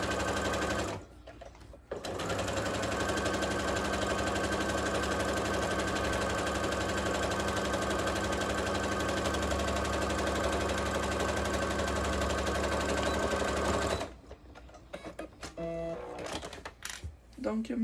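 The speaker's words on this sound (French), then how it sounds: "On n'oublie pas de faire avance et recul pour bien sécuriser notre couture." A sewing machine stitches a fabric scrunchie in a long, steady, loud whirring run of rapid needle strokes, stopping and restarting briefly at the start and trailing off into short bursts as someone talks at the end.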